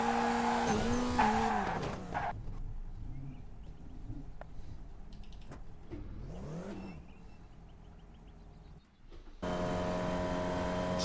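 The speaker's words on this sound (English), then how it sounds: "the Cadillac CTS-V race car at Lime Rock Park" A Cadillac CTS-V race car laps Lime Rock Park in the iRacing sim game, its engine rising and falling through gear changes with some tire squeal, then a steady high revving drone near the end.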